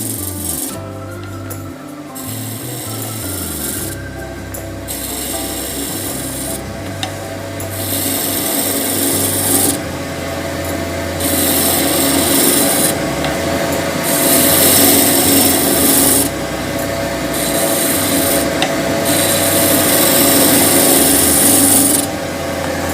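A wood lathe spins a sacrificial glue block at about 1540 RPM, giving a continuous close rubbing and scraping hum that swells and dips as the tool meets the wood, with no speech.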